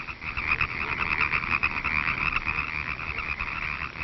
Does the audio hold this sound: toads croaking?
yes